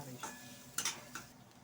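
Grated ginger and onion are stirred in a frying pan with a spatula: a few quiet scraping strokes over a faint sizzle, with short pauses between them.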